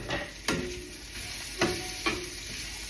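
Garlic and onions sizzle softly in a pan over low heat, a steady quiet frying hiss broken by three sharp clicks or taps of a utensil against the pan.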